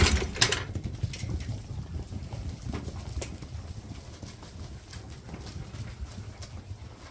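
Sheep on a wool farm stampede in for feeding, a dense patter of many hooves on ground, loudest at first and then settling into steady trampling throughout, with no talk.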